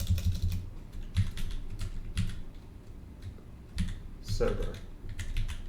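Rapid keystrokes on a computer keyboard as a terminal install command is entered, clicking in quick irregular bursts with short pauses, close and moderately loud, with a brief spoken word partway through.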